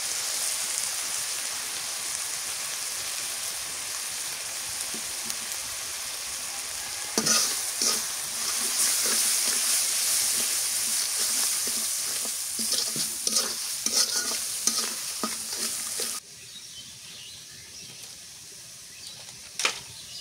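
Spice paste sautés in oil in a pan with a loud, constant sizzle, and a spoon scrapes and stirs through it repeatedly. The frying quiets noticeably for the last few seconds.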